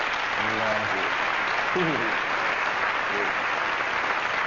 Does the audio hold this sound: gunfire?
no